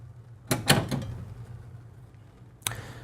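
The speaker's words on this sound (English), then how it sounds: "Door fires open, and it goes ahead and asks me with a tricolor LED blinking to please remove" A key management cabinet door pops open with a quick burst of sharp mechanical clicks and rattles, then a single click follows a couple of seconds later, over a steady low electrical hum.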